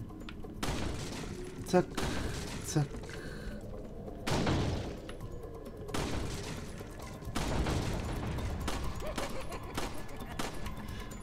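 Resident Evil 4 combat with a grenade blast and bursts of gunfire, several sharp booms and shots spread across the stretch, mixed with rumbling game sound and occasional talk.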